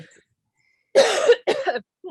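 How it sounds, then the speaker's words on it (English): A pair of loud, close coughs in quick succession, each a rough burst, with a faint trace of other sound at the edges. "something is making me cough like crazy"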